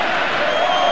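A stadium crowd at Mestalla gives an ovation to the Spain players during a Euro 2000 qualifier against Austria: a brief, steady, loud wash of applause and cheering with no break.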